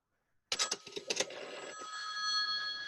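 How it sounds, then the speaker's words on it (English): In a radio play, after a moment of silence, an old telephone bell rings in a quick rattling burst, then a steady ringing tone lingers. "Ringing the police department."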